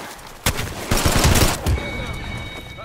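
Gunfire in the Apex Legends video game, a rapid burst of automatic shots lasting about a second and a half after a single opening shot, loud and close, with a faint tone lingering afterward.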